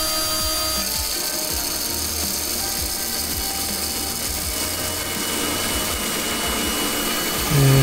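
Grain mill running at its fastest 500 RPM setting, crushing grain with a steady, dense, loud grinding rattle that continues throughout without talk.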